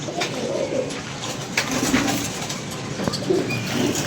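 Pigeons coo repeatedly in low, throaty phrases, close by, over a constant background murmur.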